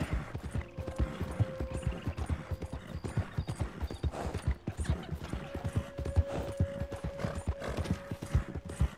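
A horse gallops in Red Dead Redemption 2, its hoofbeats thudding in a fast, steady rhythm with a faint tonal hum running behind the running hooves.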